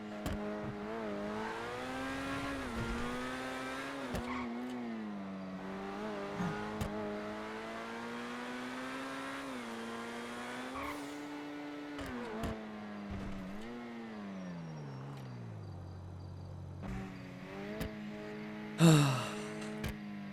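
A Grotti sports car engine in a video game rises and falls through repeated revving sweeps, a strong harmonic drone dipping low before a final sharp burst and squeal near the end.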